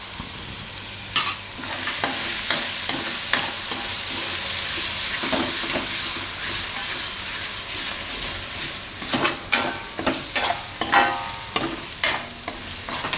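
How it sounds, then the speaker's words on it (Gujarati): Boiled corn and fenugreek leaves stirred in a frying pan, a continuous hissing sizzle with scraping spoon strokes that turn choppier and more distinct toward the end. "તો હવે આમાં નાખી દઉં આપણે આ મકાઈ બાફેલી."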